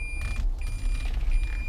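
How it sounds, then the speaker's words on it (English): Reverse warning beeps inside a 2015 Toyota Prius Plug-in with the engine off, a thin steady high tone sounding in repeated pulses over low cabin and road rumble. "these all beep in reverse because the engine is not even running"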